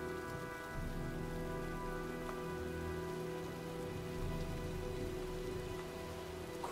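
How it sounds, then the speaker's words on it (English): Steady rain falls as a storm approaches in the video game Heavy Rain, a soft, continuous, even patter that holds without pause and with no voices over it. "looks like a storm's coming"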